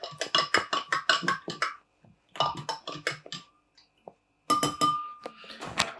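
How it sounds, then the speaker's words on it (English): A spoon clinks against a glass while maple syrup is stirred into a liquid for chia pudding, with rapid rhythmic taps in bursts, short pauses between them, and one final run of clinks, close and clear. "you want to add 1 tablespoon of maple syrup into your liquid and just kind of stir them together like this"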